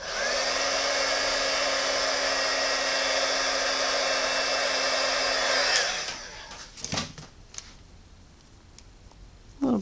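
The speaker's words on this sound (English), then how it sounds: "bit of a blow dry." Hair dryer blowing steadily on a wax-sealed craft bottle being aged, a loud continuous whir that cuts off after about six seconds, followed by faint handling clicks.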